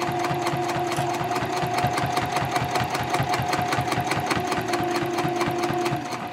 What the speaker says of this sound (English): Right now I'm just sewing 1/8 of an inch